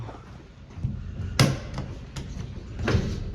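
An elevator door opens after a button press, with a couple of sharp clunks and thumps and a low rumbling slide between them, heard nearby with no talking.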